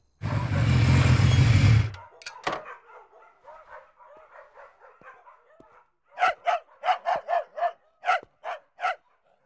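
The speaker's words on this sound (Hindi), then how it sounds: "काफी नस्ल के कुत्ते हैं आपके पास" A burst of loud noise, then a run of quieter dog barks, followed by a rapid series of sharp, loud barks close by.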